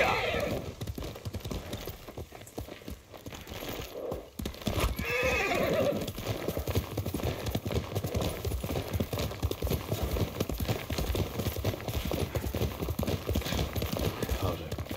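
A horse neighs and its hooves clip-clop in the Ghost of Tsushima video game, with a steady mix of game ambience and footfalls running the whole stretch.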